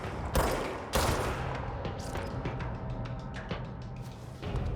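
Gunfire from the Grip sidearm in the game Control, several sharp shots in close succession up front followed by a denser stretch of rapid crackling impacts.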